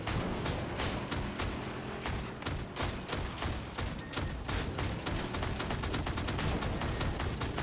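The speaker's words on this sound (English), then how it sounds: "It's just a normal automatic shotgun with a different mechanic." Automatic shotgun in a video game fires a long rapid string of shots, a dense steady barrage of blasts with no pauses, close and loud throughout.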